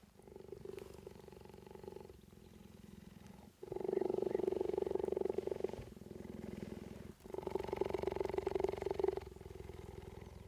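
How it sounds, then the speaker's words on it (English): Cheetah habituated to humans purring loudly up close, a deep rhythmic rumble alternating between softer exhale phases and stronger, louder inhale phases in a steady cycle. "It purrs loudly and rubs itself as a sign of its affection and trust."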